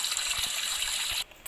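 Running shower water in a Roblox game, a close, even gushing spray that cuts off abruptly near the end and leaves a quiet tail.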